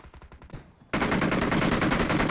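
Rapid M416 assault rifle fire in a battle royale video game: a burst of close, loud automatic shots rattles continuously after a few quieter single cracks at the start, with no talk over it.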